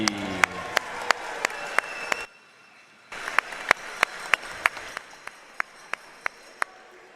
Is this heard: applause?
yes